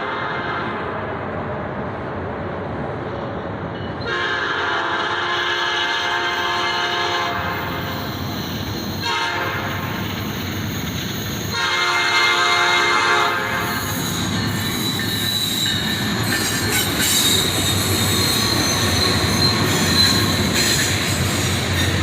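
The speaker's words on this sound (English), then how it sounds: "Three locomotives lead a monster manifest train northbound." Northbound Norfolk Southern manifest freight train led by three locomotives, an SD70ACE, a Dash 9 and an ES44, rolling past close by with a loud continuous rumble, squealing wheels and a horn blast partway through.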